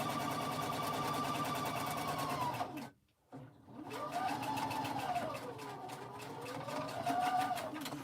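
A sewing machine stitches a pink baby quilt in a Silver Star pattern with a steady, close mechanical whir. It stops briefly, then speeds up and slows down again.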